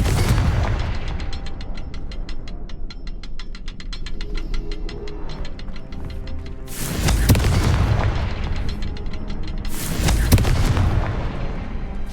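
A Confringo blasting spell in the Hogwarts Legacy video game, with a low rumble and crackle followed by two loud, booming explosions a few seconds apart.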